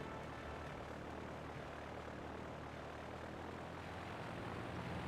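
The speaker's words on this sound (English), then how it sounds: "I like this bit. It's a plane." Airplane flying overhead in the Pokémon White 2 video game, a steady, broad propeller-engine drone holding evenly throughout at a quiet level.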